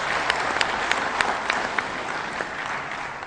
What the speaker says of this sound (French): Je vous demande de l'applaudir une fois encore